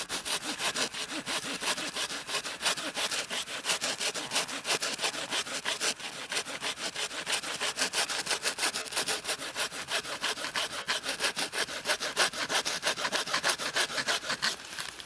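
Hand sawing through wood with a Bahco Laplander folding saw, a steady rasping rhythm of quick, even strokes continuing without pause, close and loud throughout.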